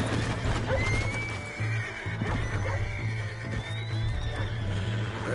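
A horse whinnies loudly over the steady clip-clop of hooves in the video game Red Dead Redemption 2, with a low hum underneath and a second, fainter neigh later on.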